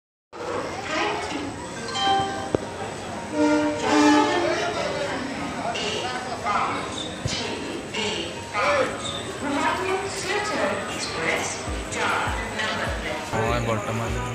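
The Guwahati Silchar Express pulls away from platform 4 at night, with heavy rail rumble, clanks and horn-like tones mixed into continuous crowd chatter and nearby voices.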